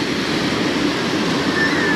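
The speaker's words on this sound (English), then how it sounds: "The waves are kind of loud." Ocean waves at Laguna Beach wash in a steady, dense roar of surf, loud and continuous with no breaks.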